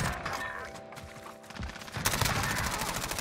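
Rapid automatic fire from a high-recoil Mini MP5 submachine gun in a first-person shooter match, bursts of sharp repeated shots that grow louder and denser toward the end, no speech.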